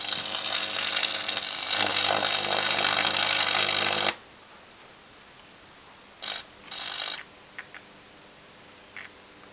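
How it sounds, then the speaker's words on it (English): An electric motor burns out on 2000 volts from a microwave oven transformer: a loud, harsh electrical buzz roars for about four seconds and cuts off abruptly, followed by a few short crackling bursts in near silence. "Burn the motor out, 2000 volts."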